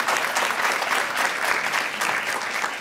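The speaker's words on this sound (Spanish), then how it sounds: "Dele ese fuerte aplauso." A church congregation claps in strong, sustained applause for the King of Kings, a dense steady wash of hands with no pauses, filling the room throughout.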